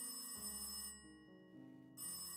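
A telephone rings in the Cube Escape puzzle game, a repeated electronic ringtone with steady tonal pulses that dip briefly in the middle and come back, heard alone and close without any talk.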